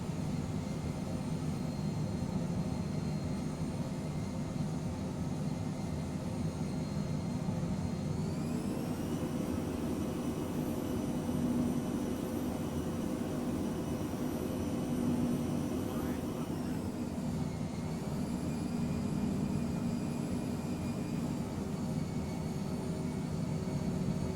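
Phenom business jet engines make a steady, loud cabin drone that continues without a break, and its pitch shifts partway through as the thrust changes.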